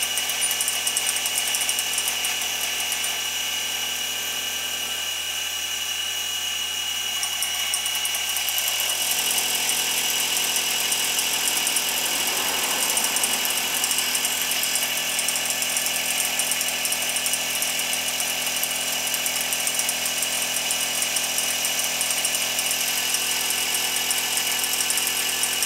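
Homemade fly cutter machining metal on a mill, a continuous harsh buzzing, whining cut that runs steadily throughout with the motor drone beneath, close and loud, with no talking.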